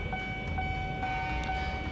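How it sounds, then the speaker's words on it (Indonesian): A KRL commuter train passes a closed level crossing in Central Jakarta, a steady loud rumble of rail noise filling the whole moment, with a faint high ringing tone running throughout and no one talking. "palang pintu perlintasan sudah tertutup, pertanda sebuah KRL akan melintas"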